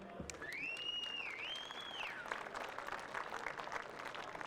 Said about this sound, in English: How about a round of applause for all these gentlemen?